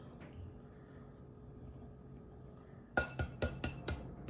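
Chicken lollipop batter of flour and salt is stirred in a bowl, starting as quiet background and ending in a quick series of sharp clinks and taps from a utensil against the bowl.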